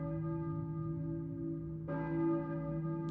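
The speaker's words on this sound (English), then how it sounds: "I hear a church bell, maybe. Who's ringing the bell?" A deep church bell in the video game Silent Hill tolls with a long ringing hum, then strikes again, resonant and fairly loud over a steady ambient drone.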